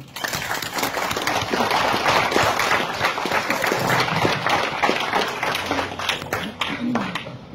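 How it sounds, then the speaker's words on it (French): Audience clapping in an assembly chamber for a choir, a dense, steady round of applause close by that fades slightly near the end. "On peut les applaudir, s'il vous plaît."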